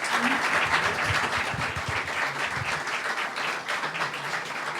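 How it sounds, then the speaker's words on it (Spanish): An audience at an investment talk applauds for the speaker Juan Carlos, a dense, steady clapping that holds at even volume throughout, heard from within the room. "Fuerte el aplauso para Juan Carlos."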